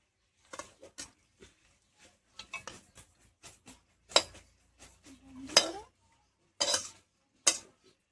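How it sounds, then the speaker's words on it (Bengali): Mutton pieces and potatoes dropped into a pressure cooker in a home kitchen, making scattered metallic clinks, thuds and clatters at irregular intervals with quiet gaps between them. "এবার আমি মাংসটা প্রেসারে দিয়ে দেবো"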